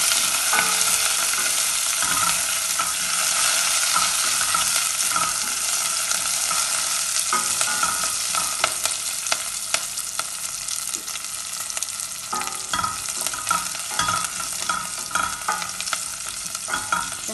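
Chopped garlic, green chilies and curry leaves fry in oil in a pan, giving a steady close sizzle with intermittent stirring scrapes and a brief dip in intensity midway.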